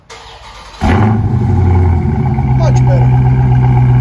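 A 2020 Dodge Charger Scat Pack with a 6.4L HEMI V8 and Carven R-Series dual exhaust fires up abruptly, then settles into a loud, deep, burbling idle close by while a person speaks briefly.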